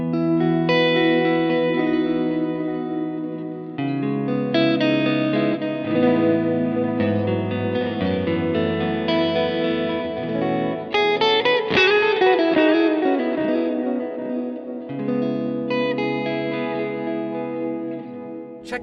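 Electric guitar through a Line 6 Helix amp model with an impulse response, tape delay and a dynamic hall reverb, playing sustained chords and melodic lines with echoing repeats and a lush reverb tail, loud and continuous, with no talking.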